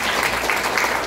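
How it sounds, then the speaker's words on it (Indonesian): An audience at a product presentation for farmers applauds, with steady, dense clapping from many hands throughout the short moment and no voices over it. "Tepuk tangan dulu deh, meriah"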